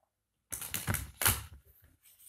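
Tarot cards are shuffled in a quick, close burst of papery riffling and clicking clatter lasting under two seconds after a short silence.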